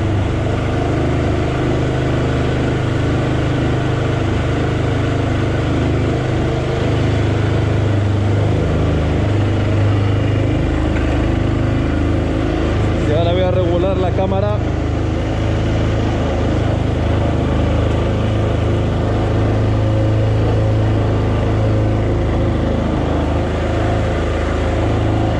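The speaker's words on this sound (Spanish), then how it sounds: "Ya veis cómo sopla, es un motor de 660 monocilíndrico." A Yamaha SZR 660 motorcycle with a 660 cc single-cylinder engine runs steadily at idle, its loud continuous thrum holding throughout, with a brief fluttering rev partway through.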